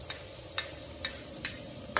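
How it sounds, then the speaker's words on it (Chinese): Garlic fries in hot oil in a wok, a faint steady sizzle broken by light spatula clinks about every half second, before chopped chili goes in for a steamed fish head dish. "油热后下入大蒜"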